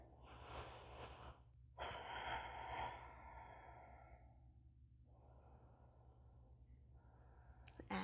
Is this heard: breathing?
yes